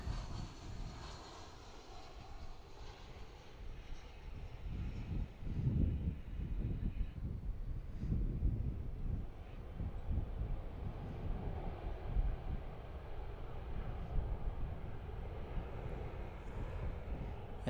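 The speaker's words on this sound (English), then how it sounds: "And then just to the right, there is a Qatar cargo triple seven." Qatar cargo Boeing 777 airliner at Dallas–Fort Worth airport, a distant, steady jet engine roar that swells slightly, with wind buffeting the microphone and no talking.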